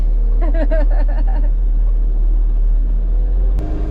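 A farm tractor engine rumbles steadily and loudly with front wheel assist engaged, its low drone shifting as a higher gear is sought, while a voice briefly speaks over it early on.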